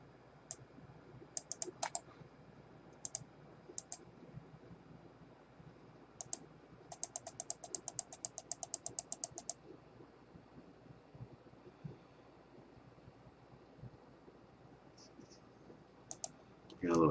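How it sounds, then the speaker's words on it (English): A computer mouse is clicked in quick bursts of sharp, close taps. Some runs are rapid and some clicks come singly, with quiet pauses between them over a faint hum. "Got a little carried away with the clicking there."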